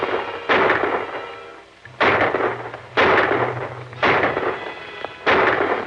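Single shots from a gun in a 1939 western film shootout, five loud sharp reports spaced about a second apart, each with a ringing decay, alone without talk.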